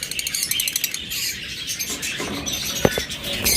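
A pair of lovebirds or cockatiels chirps in quick, bright bursts, close by, with a rustle and soft fluttering between calls.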